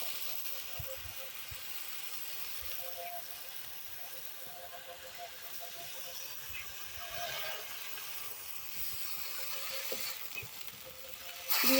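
Milk poured into papaya halwa in a hot pan gives a soft, steady sizzle and hiss that runs throughout, faint and even, with small clinks from stirring.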